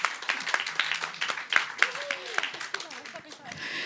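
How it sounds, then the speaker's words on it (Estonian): An audience at an Estonian talk on women's future and pensions claps for an invited insurance and pensions expert, a scattered burst of handclaps with voices talking over it. "Aplaus Katrinile ka."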